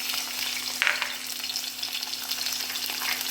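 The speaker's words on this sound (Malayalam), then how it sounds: "ഇഞ്ചി പച്ചമുളക് ചേർത്ത് അതൊന്ന് നന്നായിട്ട് മൂക്കട്ടെ മൂത്ത് വരണം" Ginger and green chillies fry in a pan for a fish stew. A steady, close sizzle runs throughout, with one brief clink or scrape near the start and no voices.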